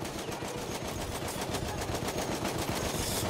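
Rapid automatic gunfire sprays in Battlefield 1 multiplayer, a loud, fast, steady stream of crackling shots lasting several seconds with no speech.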